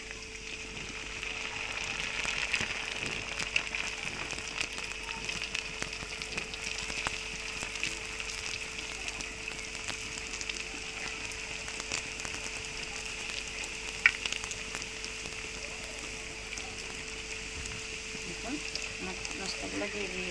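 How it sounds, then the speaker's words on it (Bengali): Snacks for chicken phoav frying in hot oil, a steady soft crackling sizzle that continues throughout, moderately loud and close. "দেখুন আমি একটা একটা করে আমার নাস্তাগুলো দিয়ে দিচ্ছি তেলের মধ্যে"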